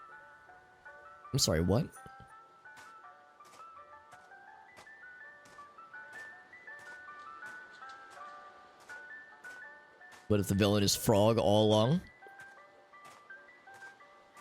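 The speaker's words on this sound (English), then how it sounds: "Yeah, it's an ice cream truck." Ice cream truck jingle in the Sirenhead horror video game, a steady tinkly melody running throughout at moderate level, with bursts of speech cutting in over it.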